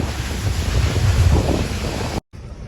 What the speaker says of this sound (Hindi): एकदम ठंडी ठंडी पूरी हवा एकदम लग रही है